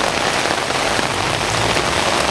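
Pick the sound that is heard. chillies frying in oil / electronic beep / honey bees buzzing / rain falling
rain falling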